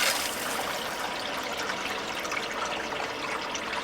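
Water runs through a water port as a tank fills, a steady close trickling and rushing of liquid that continues evenly throughout, with no voices.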